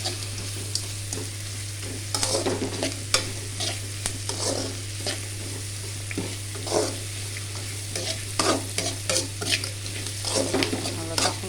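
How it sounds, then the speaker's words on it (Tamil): Onions and green chillies frying with dried fish in a pan, a continuous sizzle broken by repeated scraping stirs of a spoon against the pan, close and fairly loud, no talking. "கருவாடோடு ஒன்று சேர்ந்து இந்த வெங்காயமும் நல்லா வதங்கி பச்சை மிளகாயும் வதங்கினா மட்டும் போதும்"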